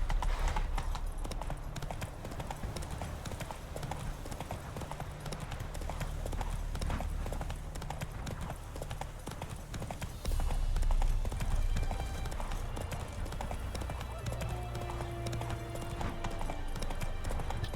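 Roach, Geralt's horse in The Witcher 3, gallops with a steady, rapid clip-clop of hooves close by, a continuous pounding rhythm that briefly swells louder partway through, with faint game ambience and a distant whinny-like tone near the end.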